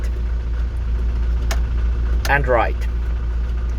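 A 1984 Ford Transit light truck engine idles low and steady close up, with a brief click and a short spoken phrase partway through.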